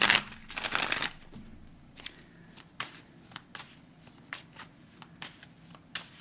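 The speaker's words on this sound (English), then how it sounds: "Let's shuffle it up one more time." Tarot cards riffled and shuffled close by, a dense burst of flapping snaps followed by scattered lighter taps and slides of cards, no talking.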